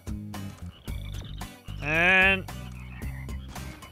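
Cartoonish bullfrog croaks from the Bullfrogs weapon in the Shellshock Live video game, a series of short deep croaks with one longer rising ribbit in the middle, clear and up front.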